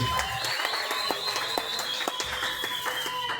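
A church congregation claps and cheers in praise, a busy layer of applause with sharp individual claps and raised voices, a sustained tone running through it at moderate volume.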